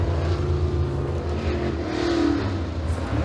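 Super late model race car roaring around Eriez Speedway on a qualifying lap, a steady loud engine drone with a rising whine as it passes, heard alone without talk.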